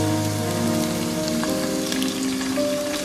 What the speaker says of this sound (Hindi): जिंजर गार्लिक को हल्का सा सौते करने के बाद ये चिकन की कलेजी इसमें ऐड कर देंगे।